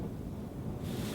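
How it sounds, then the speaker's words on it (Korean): Strong wind gusts buffet a parked Starex camper van at an open-field campsite, a low continuous roaring whoosh that swells near the end, heard close with no talking. "오늘따라 바람이 너무 많이 부네"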